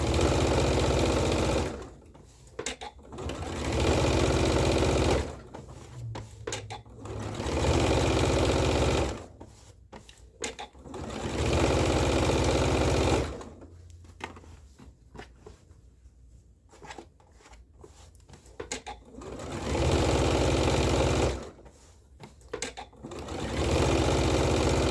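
A sewing machine top-stitches a dress skirt made from a Butterick 6942 pattern. It runs in repeated bursts of a few seconds, with short pauses between them, close up and with no talk.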